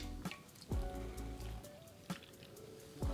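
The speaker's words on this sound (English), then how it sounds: "Pour over a few ladlefuls of your delicious stock." Hot vegetable broth is ladled over crepes in a bowl: a few soft, separate splashes and pours spaced about a second apart, quiet and close, with no talking.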